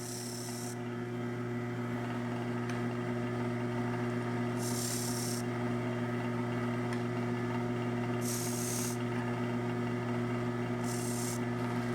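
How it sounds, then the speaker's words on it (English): A skew chisel cutting a bead on a wooden box turning on a lathe: a steady motor hum throughout, broken by four short hissing bursts of the blade meeting the spinning wood. "Now we see the skew chisel long point in action, defining the bead."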